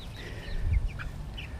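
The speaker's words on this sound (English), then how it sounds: "here's all our little chickens. So we have 11 hens and 1 rooster in here" A flock of eleven hens and one rooster in a backyard chicken run gives a few faint, short clucks and chirps over a low, steady background rumble.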